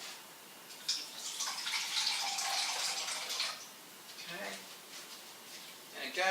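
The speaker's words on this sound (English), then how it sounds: "We're going to put 1/2 cup of water in there again." Half a cup of water poured into a pot while making chocolate coconut marshmallows, a bright splashing trickle lasting a few seconds, fairly close, followed by quieter drips and handling noises.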